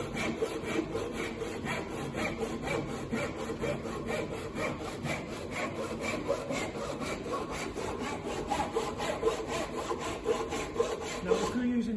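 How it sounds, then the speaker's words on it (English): Hand saw cutting European redwood timber from corner to corner, a steady rhythmic rasp of back-and-forth strokes, close and even across the whole stretch, with no talking. "Try using an oil saw when you're doing this."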